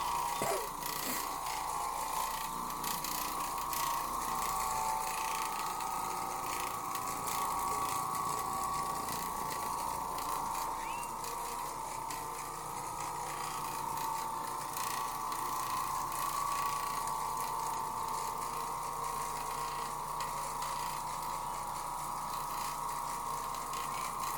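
An Oreck Orbiter floor machine scrubs carpet with a neutral pH cleaner, giving a steady mechanical hum and whir with a faint rattling texture, continuous and fairly quiet throughout with no talk.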